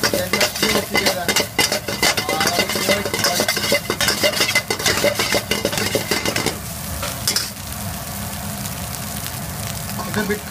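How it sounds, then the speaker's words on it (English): Rice and mushrooms being mixed together in a hot pan for Indian-style mushroom rice, busy scraping and stirring strokes over a sizzle that thins out to a steadier frying hiss in the last few seconds. "Then mix it all together."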